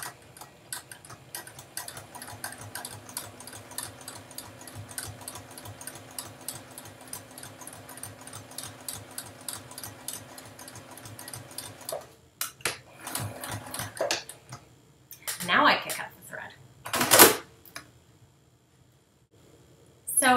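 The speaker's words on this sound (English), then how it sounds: "So I'm gonna have to back stitch a couple stitches here." Domestic sewing machine stitching fabric, back-stitching a tab on a garment lining: a fast, even mechanical ticking run for about twelve seconds, then stops, followed by scattered clicks, rustling handling sounds and brief bursts of noise.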